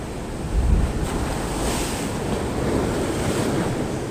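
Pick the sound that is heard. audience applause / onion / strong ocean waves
strong ocean waves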